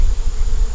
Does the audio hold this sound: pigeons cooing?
no